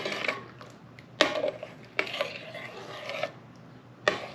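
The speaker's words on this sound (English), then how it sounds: "But these are getting smaller and smaller and smaller as I stir." Small chunks of hammer-broken glass stirred in a pot, giving scraping, grinding rasps with sharp clinks, in several bursts at close range and no talk.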